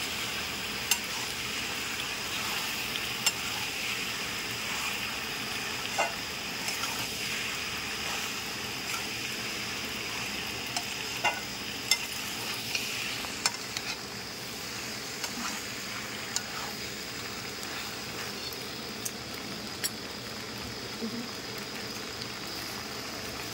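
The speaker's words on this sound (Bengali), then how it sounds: "এইটাকে আমি মিক্স করে নেব পাস্তার সঙ্গে।" Pasta being stirred and mixed with added ingredients in a pan, giving a steady soft sizzle with scattered light clicks and scrapes of a utensil, close and moderate in level with no talking.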